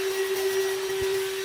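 A VacLife VL726 handheld vacuum cleaner runs on car carpet with a steady, loud motor whine and airy suction hiss, close up and constant, without any voices.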